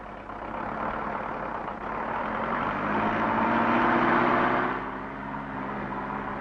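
A truck engine idles in a film scene, a steady low rumble that swells louder for a few seconds in the middle and then settles back to an even hum.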